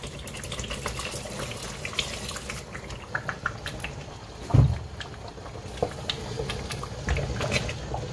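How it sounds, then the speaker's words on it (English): Stock water is poured into a pot of Nigerian pepper rice, a steady splashing flow with small clinks and one louder thump partway through, close and without talk. "about to add my stock water"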